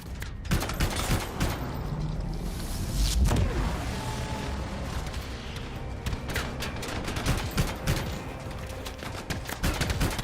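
Dense, continuous gunfire rattles through a firefight in the sci-fi shooter Anthem, with rapid bursts and heavier booming impacts layered close and loud throughout.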